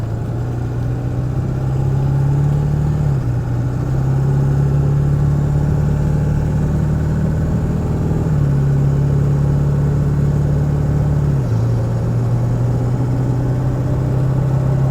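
A 2001 Ford Excursion XLT with a 7.3L Powerstroke diesel and 4WD drives at a steady cruise, a loud continuous low engine drone with small pitch steps as the transmission shifts, heard from inside with no talking.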